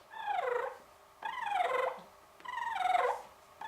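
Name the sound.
turkey purr imitated with lips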